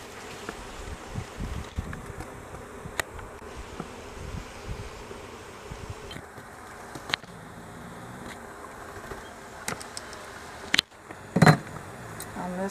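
A dense, steady buzzing of many honey bees hovers close around an open hive during an inspection, with occasional knocks and handling noises, one louder clunk near the end.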